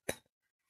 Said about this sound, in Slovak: Štrngám si s vami na zdravie.